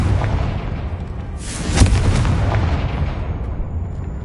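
A Confringo fire spell blast in Hogwarts Legacy, a single booming burst that rises out of a steady rumbling game background and fades slowly, with no talk over it.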